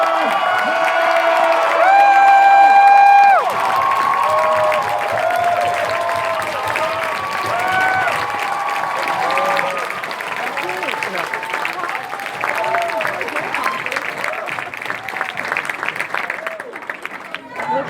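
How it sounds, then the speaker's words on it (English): A large crowd at a Back to the Future cast reunion and Q&A erupts in loud applause, whoops and cheering, with music playing at first under the noise and voices shouting over it. The roar of clapping carries on for the full length. "Please give it up for Mr. Christopher"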